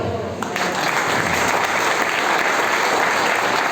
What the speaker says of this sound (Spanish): aplauso para Pablo.